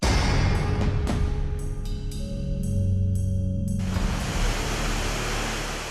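Thirparappu waterfall in Tamil Nadu, swollen into flood by heavy rain from Cyclone Tauktae, roars as a dense, steady broadband rush, with a few faint tonal sounds layered over it in the first half.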